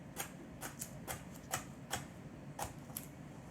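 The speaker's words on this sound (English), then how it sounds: "Dicing it just like that." A knife dices vegetables on a cutting board with sharp, crisp taps in an irregular but steady rhythm, close and clear over a soft background hiss.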